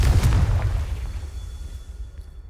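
A fiery Confringo spell blast in Hogwarts Legacy, one heavy low boom at the start that rumbles and fades over a couple of seconds, with no talking.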